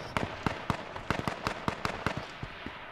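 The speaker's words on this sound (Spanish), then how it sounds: "ahí hay un tío que se está disparando" Gunshots in H1Z1, a rapid run of sharp cracks with uneven spacing, moderately close and crisp, with no talk.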